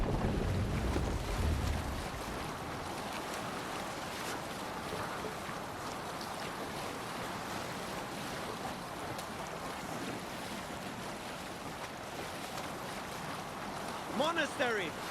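Viking longship under sail at sea in the game Assassin's Creed Valhalla, with a steady rush of wind and waves washing throughout, and a brief shout near the end.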